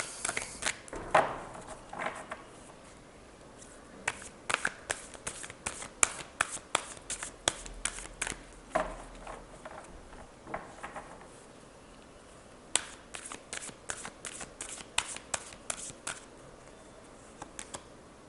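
Tarot cards shuffled by hand for a card reading: quiet, intermittent bursts of riffling and snapping cards in uneven clusters, with short pauses between, close and without talk.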